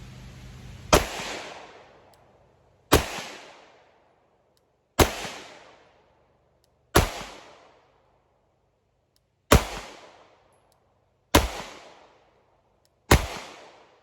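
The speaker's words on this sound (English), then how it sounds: "Let's do a little shooting with it, see how we do." Seven sharp, loud pistol shots from a CZ P01 Omega fired at a paper target on a range, evenly spaced about two seconds apart, each with a ringing decay.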